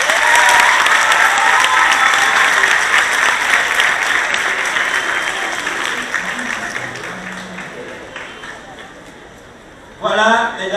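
Sustained applause from a crowd, loud at first and gradually fading, followed by a brief burst of voices near the end.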